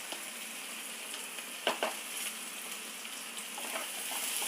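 Onions with a pinch of salt sautéing in a pan, a soft steady sizzle with a couple of brief stirring clacks, fairly faint and without talk.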